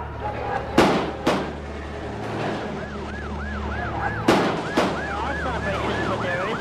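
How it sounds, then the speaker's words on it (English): Sharp cracks of gunfire in a street in Haiti, two pairs of quick shots a few seconds apart, ring out over a wailing, warbling siren and street din. "Also a lot of gunfire security out on the street."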